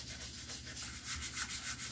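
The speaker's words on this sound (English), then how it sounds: "you just want a nice, smooth sanding" Steady, fine-grained sanding with 400-grit sandpaper on a Guitar Hero guitar faceplate, a soft, even rubbing texture, close and continuous throughout with no voices.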